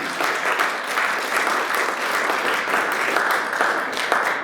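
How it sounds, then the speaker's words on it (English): A room full of listeners gives a speaker named Jay a round of applause after a discussion, producing loud, sustained, evenly textured clapping from many hands with no voices over it. "Can you give Jay a round of applause?"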